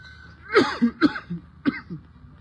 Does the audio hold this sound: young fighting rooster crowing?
no